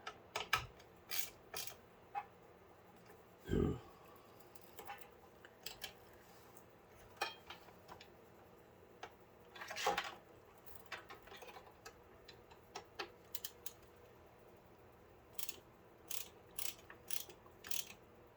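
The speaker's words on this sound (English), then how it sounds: "Okay, so now I'm going to tighten your mounts down the rest of the way." Mounting screws on an Arctic Liquid Freezer III 360 CPU cooler being tightened by hand, giving faint, close, irregular ratcheting clicks and ticks separated by quiet pauses, with no speech.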